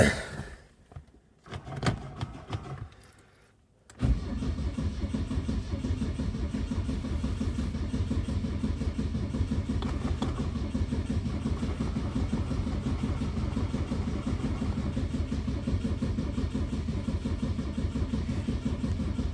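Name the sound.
1972 Saab 96 V4 engine being started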